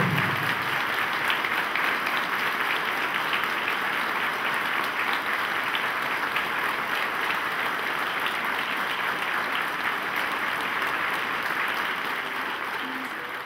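Long, steady applause from an assembled audience at a memorial tribute, a continuous wash of clapping at moderate distance that thins slightly near the end.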